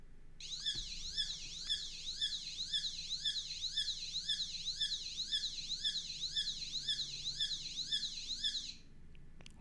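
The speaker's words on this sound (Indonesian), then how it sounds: "dia akan mendeteksi adanya gerakan, lalu buzzer akan nyala" An Arduino motion-sensor alarm buzzer sounds continuously, a loud, close electronic tone sweeping up and down in a fast, regular siren-like cycle for several seconds before cutting off near the end.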